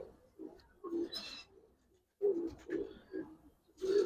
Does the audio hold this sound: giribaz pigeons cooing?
yes